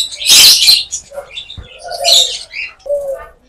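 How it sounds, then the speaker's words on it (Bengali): Pet conures of two colour mutations chirp and squawk close by in loud, sharp bursts separated by short pauses, with a few softer calls between them. "এখানে 2 মিউটেশনের কুনোর আছে।"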